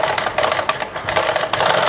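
A sewing machine with a normal presser foot stitching cloth piping, a loud, close, fast mechanical rattle that runs continuously with brief dips.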